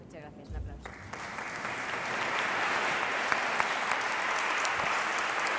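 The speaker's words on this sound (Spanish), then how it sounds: "Un aplauso" After a talk at a congress on robotics in cities, the audience breaks into applause that swells within the first seconds into a dense, even roar of clapping, with a voice briefly audible at the start.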